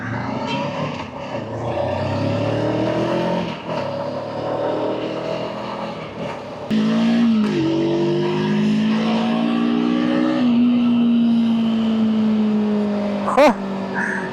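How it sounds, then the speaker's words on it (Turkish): A 525DSX motorcycle engine drones and revs up in rising pulls, holding a strong steady tone, with a brief sharp knock near the end and no speech. "İki gaz açtım titreşimden kör nokta aynam yerinden oynadı."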